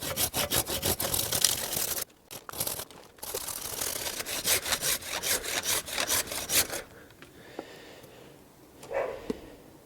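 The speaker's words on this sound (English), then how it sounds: "which is what I'm going to do now with a saw" Rapid, rhythmic hand-saw strokes rasp through the wood of a clump-style yamadori tree, fast back-and-forth cutting with a short pause, then tapering to scattered quieter scrapes.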